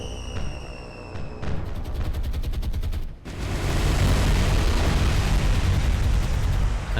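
Bomb strike on a cruiser amid naval combat in War on the Sea, with rapid gunfire bursts giving way to a heavy, sustained roaring blast that fills the rest of the clip.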